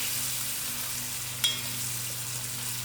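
Sugar beans frying with masala for a curry, giving a steady soft sizzle with a low hum beneath and one brief stir clink partway through.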